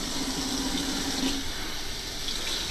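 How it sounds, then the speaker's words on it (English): Tap water runs steadily over a salmon fillet in a sink for a quick rinse, a constant close splashing hiss without speech. "Then I'll just probably rinse it off here."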